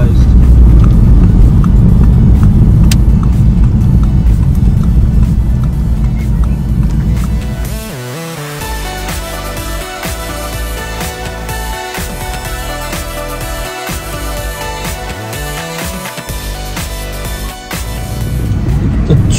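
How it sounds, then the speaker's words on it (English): Road traffic noise from inside a moving car on the drive home from Dainton, a steady close engine and road rumble that carries on throughout, with muffled voices faintly under it. "The traffic is just as bad coming home as it was actually getting to Dainton"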